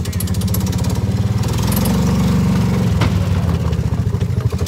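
A golf cart engine running steadily as the cart drives along a trail, a loud continuous mid-pitched drone with a rapid pulsing beat close by.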